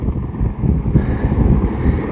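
Strong wind buffeting the microphone outdoors during a wildfire near a farm in Aguiar da Beira, Portugal, a steady loud roar of gusts with rumbling low end and no speech.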